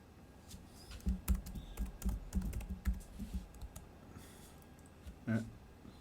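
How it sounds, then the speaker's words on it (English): Keys clatter on a computer keyboard in short bursts of close, crisp taps, pausing briefly before a final pair of louder keystrokes. "we'll just type it in"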